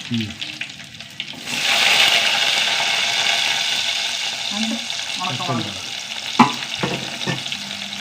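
Garlic and small onions hit hot oil in a pan and start sizzling, a bright crackling hiss that jumps in loudly and keeps going, with a few clinks and light stirring noises and brief speech over it.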